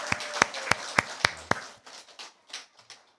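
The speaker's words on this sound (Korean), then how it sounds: "박수" Scattered clapping in a church Sunday school setting, several sharp, distinct hand claps in a quick series, then softer and thinner scattered claps trailing off, with no clear voices.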